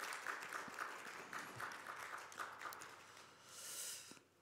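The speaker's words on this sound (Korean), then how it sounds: "우리 박수로 함께 맞이하겠습니다" Steady applause from a church congregation during a Sunday service, many hands clapping together in a continuous patter that swells slightly near the end, with no talking.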